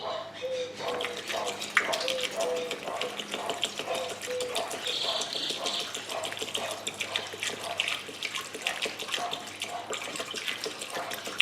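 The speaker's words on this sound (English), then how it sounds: "So that's why I'm using a funnel and pouring it this way." Ethanol (E85) fuel pours through a funnel into a scooter's tank, a soft continuous trickle and gurgle of liquid, fairly quiet and steady with faint tapping.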